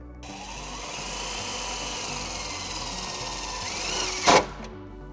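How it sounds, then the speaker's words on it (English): A power tool drives a self-tapping screw into a 2020 Jeep Wrangler body to ground a wire. It whirs steadily and close for several seconds, then ends in a sharp, louder burst as the screw seats before it stops. "Now we're going to ground our white wire to this lip right here using a self-tapping screw."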